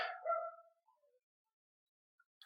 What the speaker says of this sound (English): The neighbors have a dog, apparently.